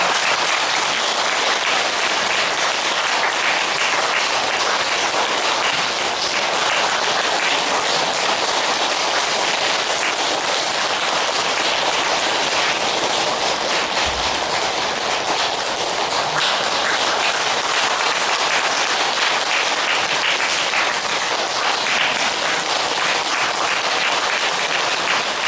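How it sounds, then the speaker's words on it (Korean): Sustained applause from a crowd at a Korean Buddhist dharma talk ceremony, honoring a former Cheondogyo leader, steady and dense for the full length with no speech over it. "다 함께 힘찬 박수를 주시옵소서."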